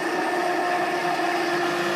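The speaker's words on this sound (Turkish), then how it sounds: "Şimdi blenderdan geçireceğim." A blender purees roasted vegetable lentil soup with a loud, steady motor whir that holds an even pitch throughout, with no talk over it.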